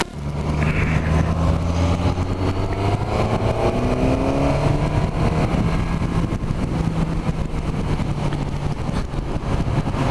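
A Suzuki GSX 1000 GT motorcycle, its engine derived from the GSX-R K5, drones close and steady, its pitch climbing as it accelerates. The engine plays alone with no voices.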